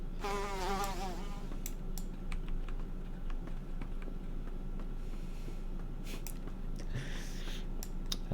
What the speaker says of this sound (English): And tonight we have a lovely entree of bees.